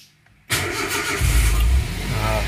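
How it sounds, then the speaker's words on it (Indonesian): A car with a weak, run-down battery cranks briefly after a moment of quiet and fires up, then settles into a steady, fairly loud idle close to the microphone, with no talking. "Dan kita akan coba hidupkan mesinnya ya."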